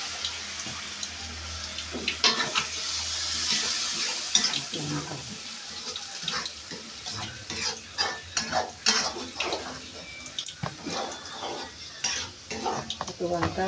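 Liquid poured into a pan where chicken gizzards and liver are frying and being stirred, giving a steady sizzle with splashing, scraping stirs and clinks close by, no talk.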